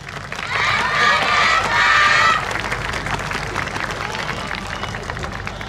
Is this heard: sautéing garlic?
no